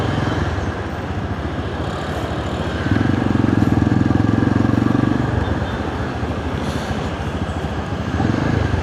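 A motorcycle with noticeable handlebar vibration rides along, its engine a steady, close drone with a louder, rougher stretch in the middle and again near the end, with no talking.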